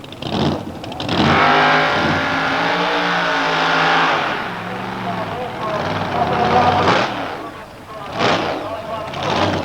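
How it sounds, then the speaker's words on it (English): Big block Chevrolet Torana drag race car at an Australian drag meet, its engine roaring and revving hard with rising and falling pitch, loud and close, with a voice talking partly over it. "Ray Hoffman's big block Chev Tirana was next out."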